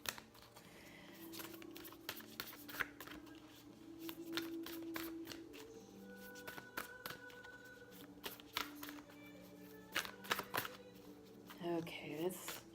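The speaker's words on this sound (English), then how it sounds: "I just need a few cards. I'm just going to pull from the top" Tarot cards are handled and drawn from the top of a deck, giving quick papery flicks and riffling snaps in scattered bursts, near and soft, with a faint voice now and then.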